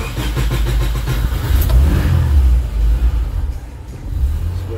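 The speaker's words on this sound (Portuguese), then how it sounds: "Dá até para dar partida pelo botão" A car engine is started with a push button, cranking briefly and catching into a low rumbling idle that swells and settles, heard close with no talking.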